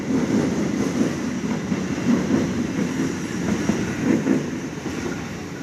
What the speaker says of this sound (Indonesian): Ini kereta api Parcel Utara. Tuh kereta kargo ya, ijo-ijo.